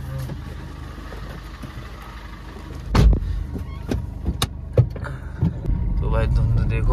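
A tractor driven at night through thick fog gives a steady low engine rumble, broken by a few sharp knocks and rattles, and the drone grows slightly fuller toward the end.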